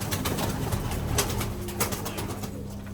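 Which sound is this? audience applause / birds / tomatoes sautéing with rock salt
birds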